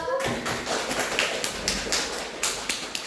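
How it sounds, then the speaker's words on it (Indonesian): A small school class claps for a student group after a physics presentation: a scattered, uneven patter of individual claps and taps, fairly close, with a few sharper hits standing out. "tepuk tangan untuk kelompok 2"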